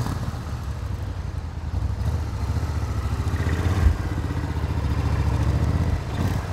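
A 1994 Suzuki VS1400GLPR Intruder motorcycle engine running as the bike rides off, a steady low rumble with a slight rise in loudness, no talk.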